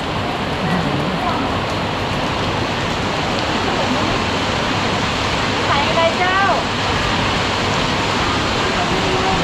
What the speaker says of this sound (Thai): แต่ฝนตกให้ไม่หยุดเลย